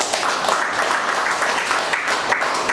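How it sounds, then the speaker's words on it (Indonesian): Steady, dense applause rises from an audience at a company presentation in Sumenep, East Java, welcoming the firm's founder and managing director. The clapping stays full and even throughout, with no pauses. "tepuk tangan untuk Bapak Subaidi."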